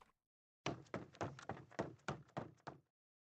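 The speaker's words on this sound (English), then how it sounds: "I heard footsteps from the main hall side of the doors" Footsteps in the visual novel Danganronpa Lapse: about ten evenly spaced, dull thudding steps, close and fairly loud, after a short silence and with nothing else around them.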